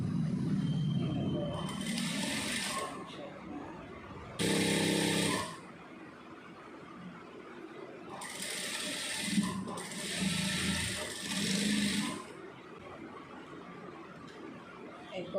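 Sewing machine stitching a straight side seam on a garment in a tailoring lesson, heard as several short bursts of whirring with pauses between them, fairly quiet in a room with some handling sounds.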